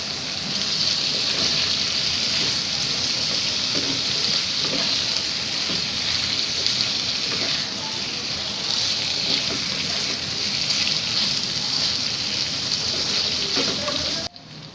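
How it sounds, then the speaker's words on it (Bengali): Fried fish eggs are mixed with spices in a pan, giving a constant, dense sizzle like hissing rain that runs loud and unbroken before cutting off abruptly at the end. "তো আমি ডিমগুলোকে ভালো করে মশলার সাথে মিশিয়ে নিয়েছি"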